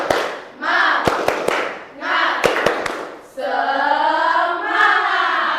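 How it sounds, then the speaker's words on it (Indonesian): Indonesian schoolchildren, junior high students, perform a rhythmic spirit clap in a classroom: groups of sharp claps in a patterned beat, separated by loud bursts of shouted group chanting, close and energetic. "Tepuk semangat."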